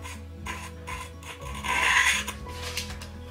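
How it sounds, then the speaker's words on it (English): Copper wire is pulled across a razor blade to strip its plastic insulation, giving close, dry scraping and rasping strokes in a few uneven pulls with a low hum behind. "we'll put it through again, but this time across a razor blade"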